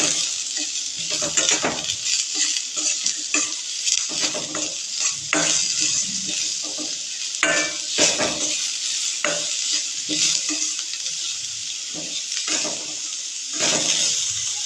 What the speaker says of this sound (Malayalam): അതിനുശേഷം ചെറുതായി അരിഞ്ഞു വെച്ച 2 സവാള ഇട്ട് കൊടുക്കാം. കുറച്ചൊന്ന് വഴന്ന് വരട്ടെ.